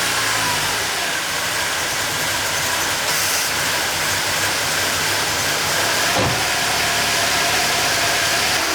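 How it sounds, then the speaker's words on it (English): A BMW E46 with oil leaks idles steadily on its own, a continuous mid-pitched engine drone with a faint bump partway through, close to the listener and without talk. "So I got the BMW running."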